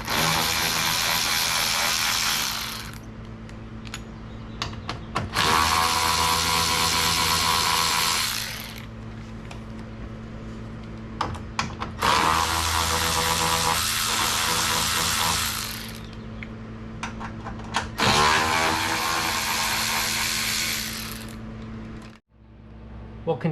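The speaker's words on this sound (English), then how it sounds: "We're going to remove the front plastic bumper by removing 4 10mm bolts on the bottom." A power tool spins out the 10mm bolts under the plastic front bumper of a 2019-2023 Ford Ranger FX4 in four loud, close whirring bursts, each a few seconds long, with quiet clicks and handling noise between them.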